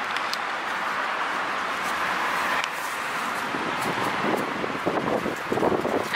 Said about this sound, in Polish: A dzisiaj wieje wiatr.